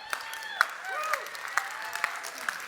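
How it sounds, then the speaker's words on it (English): An audience in a hall cheering and clapping, scattered claps and whoops spread through a short burst of crowd noise at moderate distance, with no speech on top. "For those of you in the room who feel that your Apple phone is better than Android, you just go ahead and give me a cheer."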